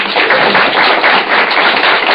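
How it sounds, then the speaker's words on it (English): A convention audience at a freethought talk claps steadily in dense, even applause, loud and sustained throughout with no voices over it. "Give you all a round of applause"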